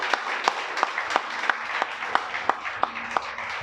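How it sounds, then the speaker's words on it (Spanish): A church congregation applauds during a Spanish-language Shabbat sermon, with a few sharp, evenly spaced claps standing out over a softer wash of clapping for a few seconds. "Pues dale un aplauso."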